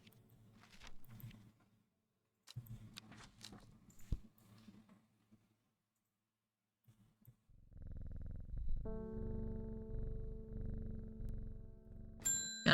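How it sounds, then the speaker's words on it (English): Soft, steady purring from a cat being petted in the video game Strange Horticulture, rising after a few quiet seconds and continuing alone with a faint ding near the end. "Gotta pet the cat."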